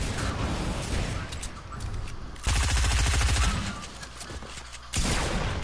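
Rapid, dense video-game gunfire that comes and goes in loud sustained bursts, with heavy low thumps and a few quieter gaps between volleys.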